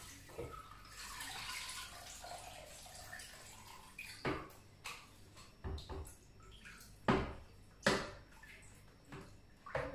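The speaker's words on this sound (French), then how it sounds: "Donc là, je rince mes poireaux." Leeks rinsed under cold running tap water in a home kitchen, a soft continuous stream with scattered splashes and sharper drips and knocks, fairly quiet and without talk.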